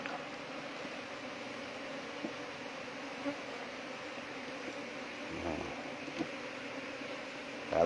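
Bees buzzing steadily around their nest, a dense continuous drone that holds at an even level throughout with slight swells, no voices.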